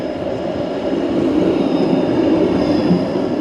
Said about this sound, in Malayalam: ഇത് ഗൈസ് നമ്മുടെ ട്രാം വരുന്നുണ്ട്